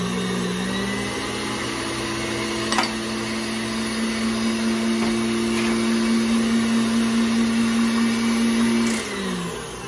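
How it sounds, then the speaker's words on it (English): Electric stand mixer whisking melted butter into a batter, a steady loud motor whine holding one even pitch throughout, starting up and winding down near the end, with a couple of faint clinks of the whisk against the bowl. "Four tablespoons of melted butter. And whisk that to combine."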